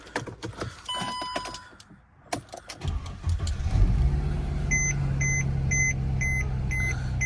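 A Mercedes W204 C300 being switched on: clicks and a few short tones, then a steady electrical and fan hum rises while a regular dashboard chime beeps repeatedly.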